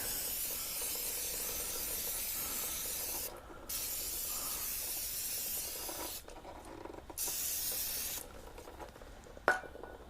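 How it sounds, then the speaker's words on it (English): Aerosol brake cleaner sprayed onto the front brakes of a 2014 Kawasaki ZX10R during a brake pad change, heard as long steady hissing bursts, close and loud, broken by short pauses, with no talking. "Get that brake cleaner and just clean everything up, all the old brake dust and all that"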